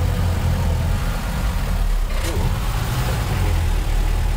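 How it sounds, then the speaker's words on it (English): A loud diesel engine drones steadily from inside the cabin of a 1977 Toyota Land Cruiser BJ40, with a deep rumbling low end throughout and a brief rattle midway. "the engine is just so loud in here"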